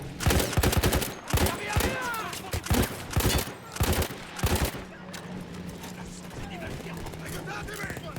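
Heavy gunfire in the World War I shooter Battlefield 1, with a rapid string of loud, close shots over the first five seconds, then a steady hum of battle noise and voices.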